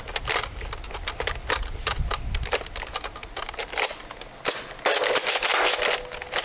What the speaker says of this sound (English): I'm gonna try some slam fire, see if we can get this thing to behave.